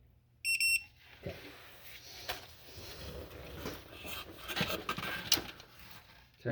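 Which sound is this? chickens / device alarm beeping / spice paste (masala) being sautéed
device alarm beeping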